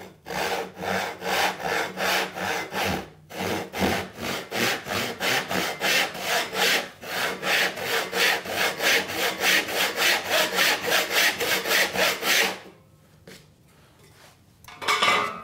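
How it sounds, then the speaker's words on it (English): Hand saw cutting a cross-grain rabbet to depth in wood, steady rhythmic back-and-forth strokes close up, pausing briefly partway and stopping near the end with a few light knocks. "I'll mark my knife line and I'll come in and saw it"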